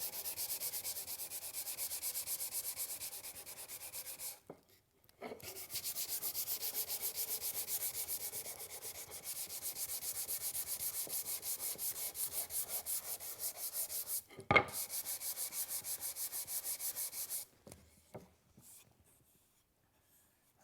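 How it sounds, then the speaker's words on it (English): Someone sands an oak table repair with close, rhythmic scratchy strokes, pausing briefly twice before stopping near the end. "Let's do a little sanding."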